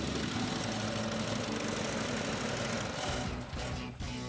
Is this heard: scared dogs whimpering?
no